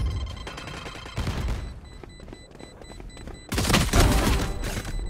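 Gunfire in a Valorant match, bursts of shots with loud cracks and a heavier volley near the end, with little talk over it.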